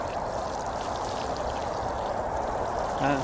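Water poured from a can onto newly planted onion seedlings in a garden bed, a steady close pouring trickle splashing onto soil throughout, with no talk.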